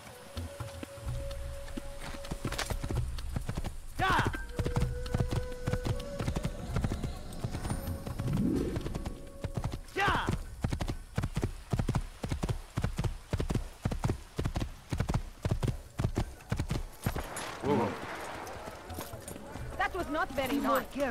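Hooves of a horse clip-clop steadily in Assassin's Creed, set in the city of Damascus, a rapid rhythmic trot under game ambience with brief tones and occasional background talk.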